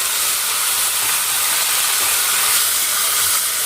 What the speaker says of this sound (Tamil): நல்லா வந்து பொறிஞ்சி வரணும் நல்லா வந்து வதங்கணும்